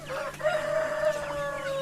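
Young village chickens from a traditional poultry flock give a drawn-out, clear call that holds steady for nearly two seconds, close by and alone.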